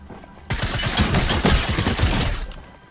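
Rapid submachine gun bursts from a multiplayer video game, loud and close, erupting suddenly after brief quiet and firing continuously for about two and a half seconds with no talk.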